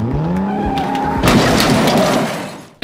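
A small toy Lamborghini car runs with a high whining motor that rises in pitch, then shifts into a rough grinding rattle before cutting off, loud and close.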